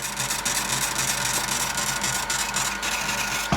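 A Sony VP-2030 U-Matic video deck's mechanism gives off a steady, loud whirring and rattling noise, continuous and close, with faint rhythmic ticking inside it.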